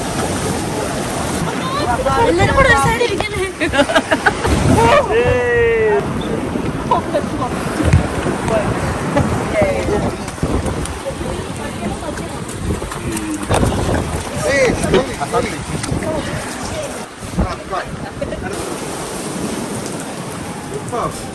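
A boat trip through rain to The Rock restaurant in Zanzibar: steady rain patter and wind gusts mix with water and engine noise, while people talk nearby and a bird calls briefly.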